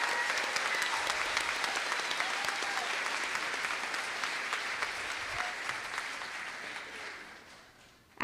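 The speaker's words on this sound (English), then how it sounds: "Please give a round of applause for this year's scholarship recipients." Graduation audience at the Fordland High School Class of 2022 ceremony applauds scholarship recipients, a steady wash of clapping that holds for several seconds and then fades away near the end.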